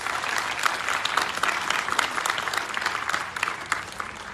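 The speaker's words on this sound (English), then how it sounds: "If you please give them all a big round of applause" Audience applause for event sponsors at a live concert, steady dense clapping from a crowd throughout, moderately loud with no talking.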